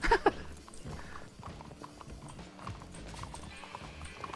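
A horse in the RedM Western roleplay game clops along, its hooves making steady, close clip-clop beats on the ground, with a brief sharp clatter at the start and faint game ambience beneath.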